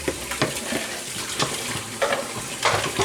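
Eggs with milk and spinach cooking in a pan, giving a soft sizzle with intermittent stirring scrapes, close and moderately loud, no talk.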